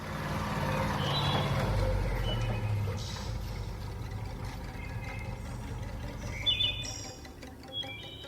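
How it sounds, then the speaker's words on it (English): A truck arriving in a radio drama, its engine rumbling loud and near before easing off, while birds chirp and a few high beeps sound in the background. "There's the truck."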